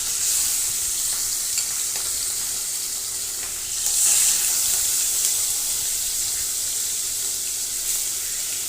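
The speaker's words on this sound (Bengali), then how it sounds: "এই যে এখানে মাছ আমি মাখিয়ে রেখেছিলাম মশলা দিয়ে, এখন দিয়ে দেবো।" Spice-marinated fish, pabda, frying in hot oil, a steady broad sizzle running throughout with a brief louder surge midway, no voices.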